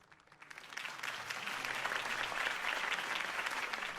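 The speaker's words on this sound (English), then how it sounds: "could have heard that applause" Crowd applause in the Batman Telltale video game, a dense wash of clapping that swells in over the first second and holds steady at moderate loudness, with no voices on top.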